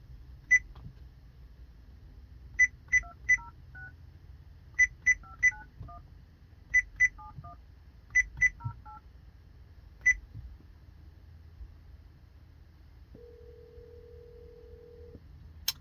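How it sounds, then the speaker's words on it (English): Phone keypad dialing tones from an Android car stereo installed in a Toyota Prius: bursts of short two-tone beeps in quick groups, clear and close, followed by a steady held tone near the end, over low cabin hum. "Next, we're going to go ahead and try your phone feature."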